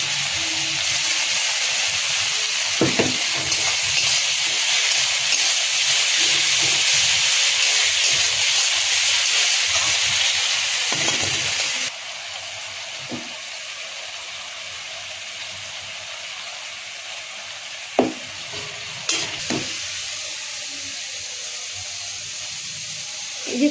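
Tomato and homemade spice paste sizzling loudly in a frying pan, a steady broadband hiss that suddenly drops to a quieter sizzle midway, with a few sharp clatters near the end.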